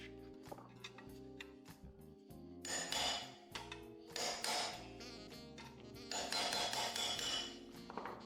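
Thin copper is struck against an anvil in a metal shop, a series of sharp metallic taps in quick clusters, some louder bursts ringing briefly, with no talking.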